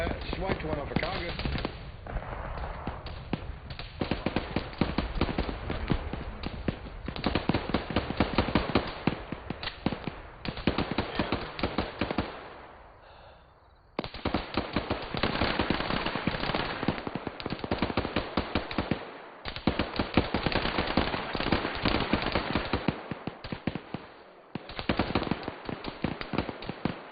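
Close enemy gunfire during a military operation, dense rapid cracking shots in long bursts with only brief pauses, loud and nearby over narrow radio-band sound, with talk mixed in.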